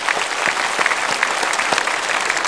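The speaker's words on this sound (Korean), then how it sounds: "예수님 영접하신 분을 박수로 축하합시다." A church congregation at a Sunday worship service applauds to congratulate new believers; brief, dense hand clapping that stays even and full throughout.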